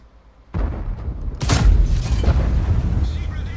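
A World of Tanks cannon fires with a heavy, close boom, preceded by a lower rumble and followed by a sustained rumbling tail, with talk underneath.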